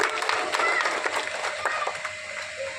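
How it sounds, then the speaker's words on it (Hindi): An audience at a village Ambedkar Jayanti celebration applauds to welcome guests, a steady wash of crowd clapping that runs through the clip with voices mixed in. "तालियों से आप अतिथियों का स्वागत करें।"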